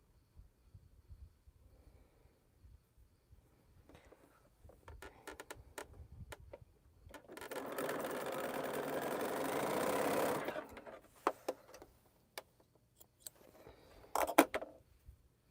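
A sewing machine stitches quilt pieces together in a quiet room, running in a steady continuous burst of several seconds between soft handling clicks and faint bumps.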